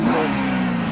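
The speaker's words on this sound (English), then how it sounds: "Rev that baby up." A car engine revs at a car show in Lake Ozark, a loud, close, sustained mid-pitched roar held steady for under a second.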